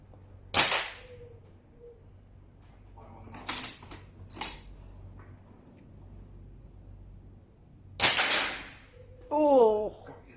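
An air rifle fired at chalk targets outdoors gives a few sharp snapping cracks spaced seconds apart, close and loud, with quiet mechanical clicks between shots and a brief voice near the end.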